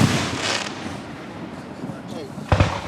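Fourth of July fireworks over Gettysburg crack in two loud bursts, one at the start and one near the end, while people talk nearby.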